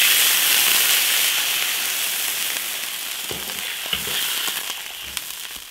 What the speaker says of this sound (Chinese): 稍微煸炒一下，加水